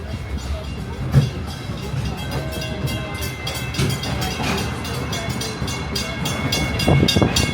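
The Walt Disney World Railroad train runs toward Frontierland Station with a steady rumble and rattle of rolling cars and occasional louder clanks, under faint background voices.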